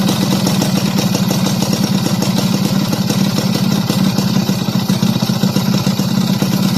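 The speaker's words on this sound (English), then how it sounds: "I got my original Mikuni back on here. And we just got to set the idle a little bit once she warms up." A motorcycle fitted with its original Mikuni carburetor idles steadily and loudly up close, a dense, fast-pulsing clatter holding an even rhythm throughout with no talking.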